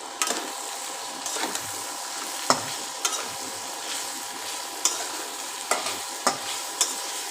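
Paneer being stir-fried with Kashmiri chilli powder and cumin-coriander spices in a pan: a low steady sizzle broken by sharp, irregular scraping clicks of a spatula, close and alone, no talk.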